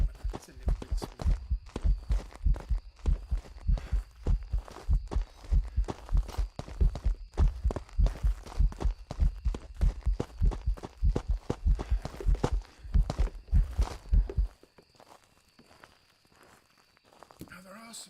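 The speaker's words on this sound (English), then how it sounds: "I want to try and hear the footsteps of it without it seeing me" Heavy ghost footsteps in the Phasmophobia horror game, a steady run of loud, thudding steps in a fast rhythm that stops abruptly near the end, leaving faint ambience.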